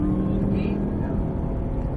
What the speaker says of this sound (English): Start unwinding the wheel, squeeze the full throttle.